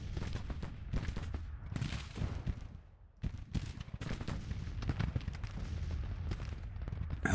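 Cavalry rapid fire crackles in a Civil War strategy battle in Grand Tactician, with dense overlapping gunshots and volleys rattling on continuously, briefly thinning before building up again.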